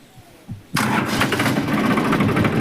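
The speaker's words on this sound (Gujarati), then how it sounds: "પછી આપણે ટ્રેક્ટર ચાલુ કરીએ." A tractor engine cranks briefly, then catches and settles into a loud, steady idle. A few quiet knocks come before the start.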